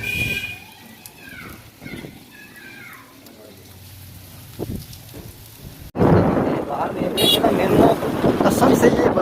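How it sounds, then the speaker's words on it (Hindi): Heavy rain pours down in a village, a dense steady hiss that swells suddenly and stays loud, with low thunder rumbling; a voice talks faintly beforehand. "बारिश काफ़ी तेज़ हो गई है"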